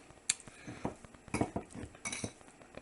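A spoon mixes bacon shot filling in a bowl, giving soft scrapes and a few light clinks of utensil against the bowl in an irregular rhythm, quiet and close, with no talk.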